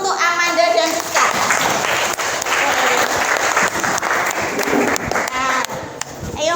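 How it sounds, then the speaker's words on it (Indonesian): An audience claps for two presenters in a continuous, fairly loud round of applause, with children's voices and bits of speech breaking through at the start and end. "Kita beri aplaus dulu untuk Amanda dan Rizka."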